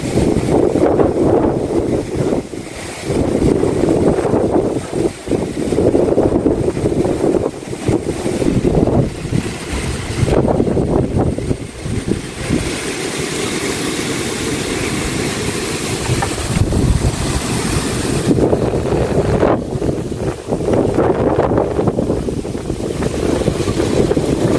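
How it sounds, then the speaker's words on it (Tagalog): Strong, gusty wind roaring continuously through a night in a storm, with no rain falling, swelling and easing in waves but never dropping out, loud and close with buffeting on the microphone. "Wala pong ulan, ambon lang. Mahangin lang po siya talaga as in."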